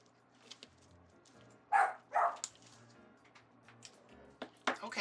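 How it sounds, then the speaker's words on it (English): A pit bull barks outside, two distinct muffled barks in quick succession, heard at a distance through an indoor space, followed by a softer, shorter yelp near the end. "Wait, is that the pit bull outside? And does it have a little wimpy bark like that?"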